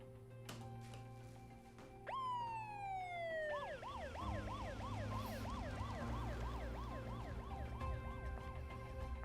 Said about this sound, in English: That siren kind of popped off a bit.